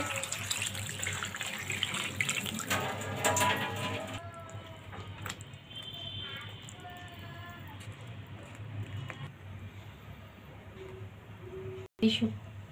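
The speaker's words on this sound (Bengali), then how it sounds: "এবার আমি পরিমাণ মতো জল দিয়ে দেব।" Water poured into a cooking pot of eggplant pieces, a steady splashing pour that fades into a quieter simmering trickle, with a voice talking over it.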